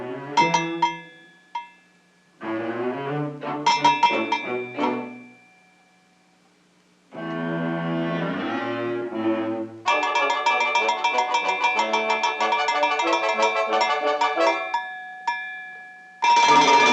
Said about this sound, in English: it seems entirely plausible that pulling her tail would ring the bell